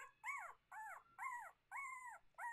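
A puppy in a pen whimpers close by, five drawn-out, wavering whines in a steady rhythm with short pauses between them, with no talking.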